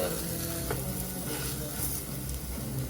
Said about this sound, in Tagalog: A little bit of oil, smoke-free pan. We will try and smash it. Smash with oil.